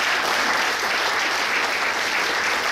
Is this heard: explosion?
no